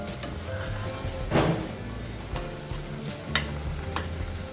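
Homemade garam masala stirred and sautéed in hot oil in a pan for a spicy prawn curry, with a steady close sizzle and scraping stirring strokes throughout, one louder scrape near the middle.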